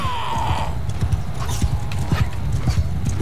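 Horse hooves clip-clopping at a gallop in Mount and Blade Bannerlord, a steady rapid rhythm of close thuds with a brief whinny near the start over battle noise.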